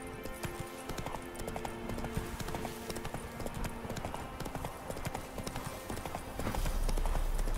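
Horse hooves in The Witcher 3: Wild Hunt, rapid rhythmic clip-clop of a galloping horse, close and continuous, with a low rumble swelling near the end.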